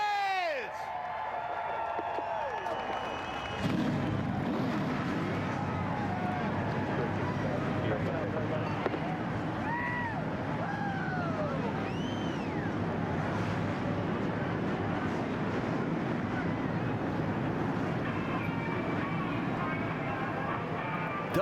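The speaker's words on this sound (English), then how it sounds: "Gentlemen, start your engines!" NASCAR Nationwide Series stock cars at Charlotte firing up their engines before the Tech-Net Auto Service 300, a sudden roar that swells into a sustained, layered engine drone with rising revs, loud under crowd noise and announcer talk.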